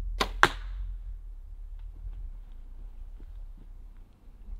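A Muzzy Trocar broadhead arrow strikes an elk shoulder blade with two sharp, quick cracks close together. Faint scattered ticks and a low rumble follow in an otherwise quiet background.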